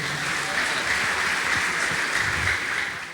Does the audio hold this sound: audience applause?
yes